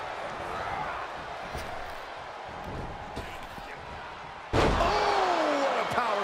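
A wrestling body slam in a Dexter Lumis vs Bobby Lashley match lands with a sudden loud thud on the ring mat, following steady arena crowd noise and commentary.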